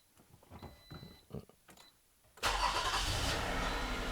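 Quiet clicks and shuffling inside a Toyota, then its engine abruptly starts by push button and settles into a steady, loud idle.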